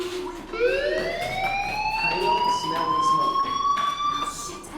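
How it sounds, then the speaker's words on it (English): Fire alarm in the video game Life is Strange, a rising electronic wail that climbs in pitch and holds as a loud, steady siren tone for several seconds. "do you hear that fire alarm?"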